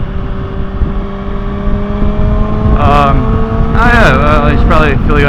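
A Honda CBR 600RR motorcycle engine runs at a steady idle, a loud, close, even drone with a sustained tonal hum, while a voice briefly sounds over it.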